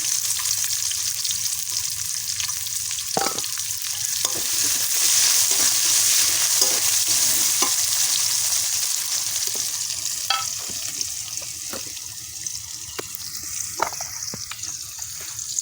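Chopped onions frying in oil as the base for a fish masala, a continuous close sizzle with occasional stirring clicks and spatters, no voices.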